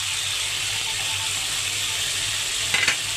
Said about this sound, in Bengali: এখন আমি চিংড়ি মাছটা দিয়ে দিব